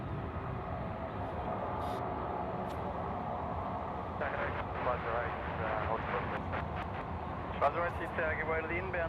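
An Airbus A330-300 airliner arriving from Seoul at Sydney Airport gives off a broad, distant jet roar that swells slightly partway through, with voices faintly present underneath.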